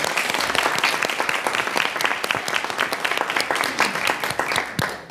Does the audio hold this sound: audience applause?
yes